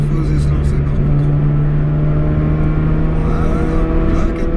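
A Ford Escort XR3i engine revs at 4000 rpm on mountain roads, a loud, steady, close drone that holds a constant pitch throughout.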